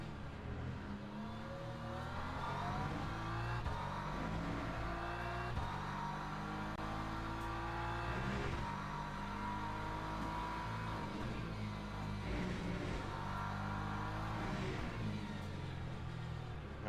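Race car engine in a racing video game revving hard under acceleration with the rear wheels spinning, a loud continuous drone of rising and falling pitch running throughout without pauses.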